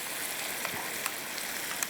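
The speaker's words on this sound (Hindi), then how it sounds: "यहाँ पे मटन भुन गया अच्छे से हमारा" Mutton frying in a pan, a steady bright sizzle with small pops and crackles throughout, close and continuous, no voices.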